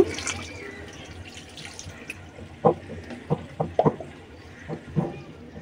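Water poured into salted, spice-marinated beef for a beef bhuna: close splashing and trickling, then several distinct drips and plops spaced a moment apart.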